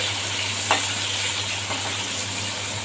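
Country chicken with turmeric and papaya fries in a pan, a dense steady sizzle with one sharp clack of a utensil and a faint scrape, alone without speech.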